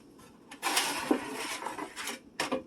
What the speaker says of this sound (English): Let's get this put into the oven, and I'm going to put it directly into the center of my rack.